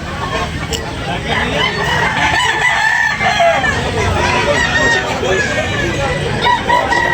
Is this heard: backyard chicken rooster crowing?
yes